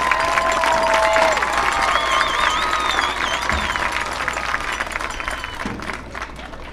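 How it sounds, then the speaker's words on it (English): A crowd applauds and cheers the homecoming court at a Community Christian at Coalgate high school game, a broad, distant wash of clapping with a whistle-like tone early on, slowly fading. "Let's give them all a round of applause."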